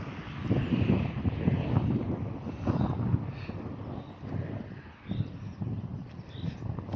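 Steady, loud wind gusts buffet the microphone outdoors at a memorial site, a continuous roaring rush with no voices.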